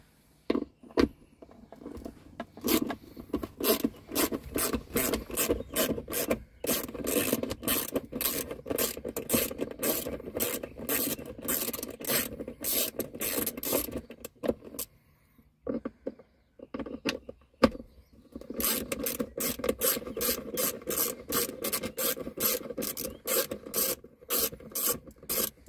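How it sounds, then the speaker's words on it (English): Ratchet wrench loosening the center bolts of a Toyota FJ Cruiser console, rapid clicking in long continuous runs with a short break in the middle, close and fairly quiet. "now we're going to take out the bolts in the center"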